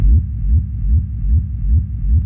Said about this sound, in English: Then we've got a rumble, which I've just recorded the kick into audio and reversed it.